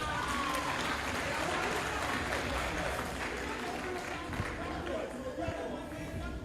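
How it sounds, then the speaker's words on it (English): Students packed into a hall at a political party gathering clap and cheer, rowdy applause mixed with crowd chatter and shouting voices, loud and close, tapering slightly toward the end. "Clap for yourself."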